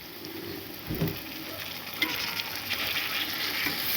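Prawns go into a pan of fried bitter gourd and onion, where a soft, steady frying sizzle rises with a few light stirring knocks near the start.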